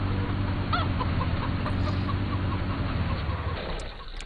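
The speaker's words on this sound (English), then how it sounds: "Well, it looks like we actually start with some chickens this time." Chickens in the video game Farming Simulator 17 cluck in repeated short calls over a loud, constant rumbling background. The clucking sits at mid distance and fades slightly toward the end.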